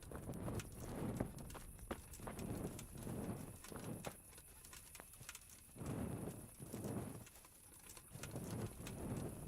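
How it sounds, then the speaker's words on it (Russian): A horse in the medieval game Kingdom Come: Deliverance clops along in a steady walking rhythm at night near a castle, hoofbeats soft and mid-distance over faint ambient bird and outdoor sounds. "Стой здесь, лошадь, никуда не уходи."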